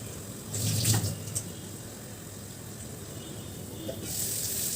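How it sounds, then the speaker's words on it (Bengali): Water runs and splashes steadily while a stone grinding slab and pestle (shil nora) are rinsed at close range, with a brief louder gush early on, no voices. "এরপর ভালো করে শিল নোড়াটা ধুয়ে আমি জলটা নিয়ে নেব।"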